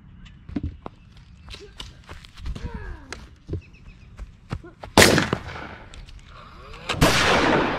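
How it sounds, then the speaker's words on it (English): Video-game tank gunfire crackles in rapid bursts, with sharp repeated shots, a couple of heavy loud blasts and scattered impacts, with brief voices in between. "Geez, that gun has rapid fire?"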